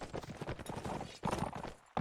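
Horse hooves clip-clop in a competitive multiplayer video game match, rapid uneven hoofbeats from several mounts close together, fairly loud, broken by a brief pause before a fresh burst.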